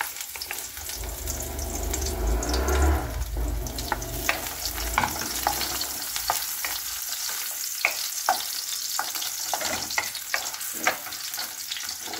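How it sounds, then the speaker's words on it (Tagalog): Garlic fries in hot cooking oil with a steady, loud sizzle, and a utensil stirs it in the pan with repeated scraping clicks throughout. "meron tayong mantika dito. Lagay natin yung ating garlic."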